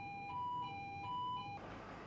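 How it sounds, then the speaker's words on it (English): A ship's fire alarm sounds as a repeating electronic two-tone signal alternating in a steady pattern, fairly faint over background noise, ending in a broad hiss. "Sound the alarm promptly."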